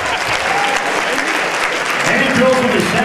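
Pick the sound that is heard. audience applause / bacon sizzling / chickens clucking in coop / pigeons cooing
audience applause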